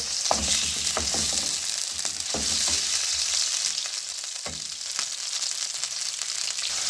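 Chicken frying in a pan with sautéed onion and garlic, a steady loud sizzle with occasional scraping and stirring knocks, no voices.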